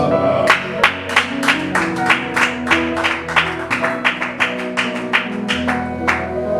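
Congregation in church clapping in a steady, regular rhythm, sharp claps repeating about every half second over sustained musical tones, fairly close and loud.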